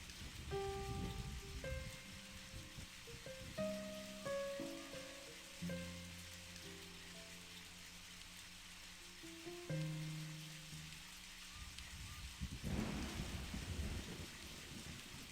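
Rain falls in Deadly Premonition as a steady broadband hiss that continues for the whole stretch, under layered tonal game music with shifting sustained notes.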